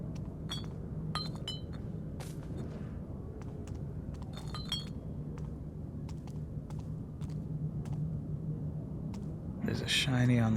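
Broken glass clinking underfoot in the 2014 Thief video game, with scattered sharp tinkling clinks over a low ambient hum and a louder shuffle of glass near the end.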